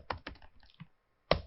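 Python code being typed on a computer keyboard: quick clusters of key clicks, a short pause, then one sharp, louder keystroke, close and dry with no talking.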